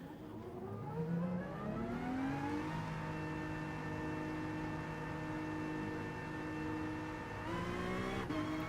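Race cars in GT Sport idle and creep out of the pit lane, a steady layered engine drone with rising and falling pitch as revs shift, loud and continuous with no talking.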